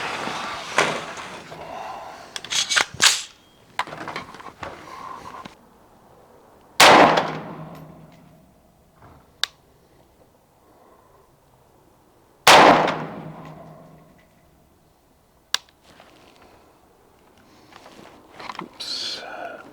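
Sharp gunshots from an AR-type rifle fed from a P-Mag crack out at an outdoor range, a few loud isolated reports spaced seconds apart with quieter handling clatter between them.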